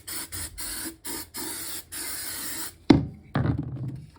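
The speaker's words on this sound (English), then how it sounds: "A little bit of silicone spray." Several quick bursts of silicone aerosol spray hiss, short pulses then a longer spray, followed by a couple of clunks as the can is set down.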